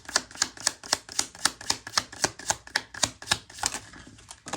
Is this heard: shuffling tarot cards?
yes